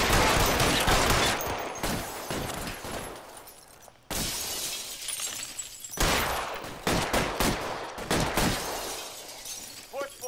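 L.A. Noire Remastered shootout with loud gunfire bursts and shattering, breaking glass, sharp cracks repeating across the clip with brief pauses between volleys.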